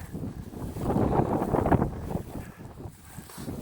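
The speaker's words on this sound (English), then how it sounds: "This wind is insane." Strong wind gusts over a small frozen pond and marsh, roaring and buffeting the microphone in a loud surge that eases off toward the end.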